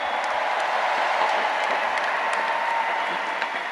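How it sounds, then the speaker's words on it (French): Sustained applause fills a large arena hall at the Centre Bell for Charles Séguin, a dense steady wash of clapping from a big crowd with no pauses. "Bonne main d'applaudissement pour Charles Séguin."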